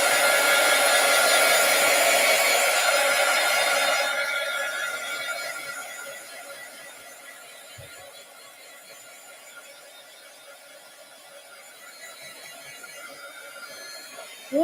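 A hair dryer blows steadily on a clay or resin mold, loud and broadband for the first four seconds, then dropping to a softer, distant hum that continues to the end.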